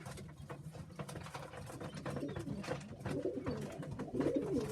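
Sheffield Tippler pigeons in a loft coo softly and repeatedly, low burbling calls overlapping amid faint rustling, close but quiet.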